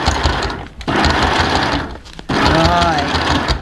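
A compact mini JL sewing machine stitches through thick fur material in fast whirring runs, pausing briefly between bursts, with a person talking over the motor.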